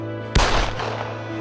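A single sharp gunshot cracks over a steady low hum, followed by a brief rumbling decay.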